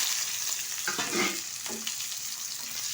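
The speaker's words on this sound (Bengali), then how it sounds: "পেঁয়াজটা ভেজে নেব" Chopped onions sizzle steadily in hot oil for a goat-offal curry, with a continuous bright crackle and a few soft scraping stirs partway through, close up and with no talking.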